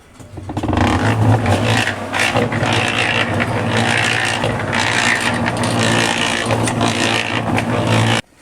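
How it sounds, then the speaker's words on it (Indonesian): A machine engine starts up and runs, settling into a loud, steady mechanical drone with rattling texture that cuts off abruptly at the end. "Hidupin mesinnya."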